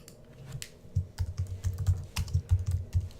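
Rapid, uneven keystrokes on a computer keyboard as a name is typed in, close and fairly quiet, a steady run of clicks over about three seconds with no talking.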